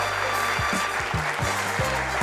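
A live comedy show audience at Centro Mori claps in a steady broadband patter for about two seconds, with tonal sounds sliding through underneath.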